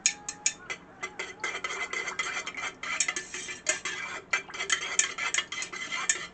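Soy candle wax with a few drops of fragrance being stirred in a container, a quick run of close, light ticking scrapes and taps that keep a rapid, uneven rhythm throughout.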